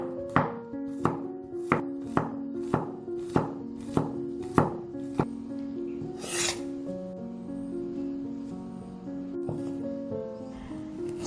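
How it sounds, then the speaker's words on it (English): A knife chops through four garlic cloves on a board, about a dozen crisp, evenly spaced strikes up close, then a pause while the pieces are scraped and rubbed together. "4 cloves of garlic that I'm going to chop up."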